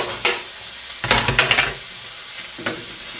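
Garlic dropped into hot oil in a pan where a chilli is cooking, sizzling steadily while a spoon stirs and scrapes in a quick cluster of close strokes, then a single later scrape, with no talking.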